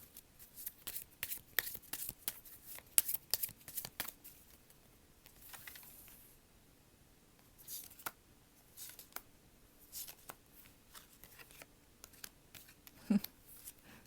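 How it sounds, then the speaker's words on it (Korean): Tarot cards are shuffled and an extra card drawn, giving faint, close, scattered flicks, slides and light taps with quiet gaps between them. "추가 카드 한번 뽑아볼게요."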